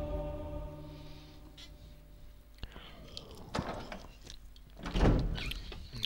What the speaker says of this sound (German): Hallo Tür!